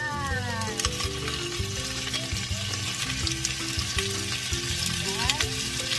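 Clams dropped into browned garlic and butter in a hot pan, producing dense, crackling sizzle and frying hiss that stays loud and close throughout with small bursts of spatter.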